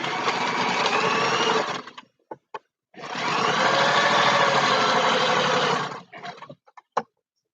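A sewing machine stitches a Danish priest collar in two loud, steady runs of a few seconds each, separated by brief pauses and followed by short clicks and taps.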